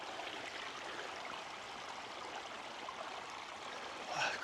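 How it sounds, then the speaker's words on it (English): Runoff water from the property behind a house streams downhill outdoors, a steady faint rushing wash that continues throughout and swells briefly at the end, with no voices. "all this water is coming from the property up by the house, back behind the house, and just making its way downhill"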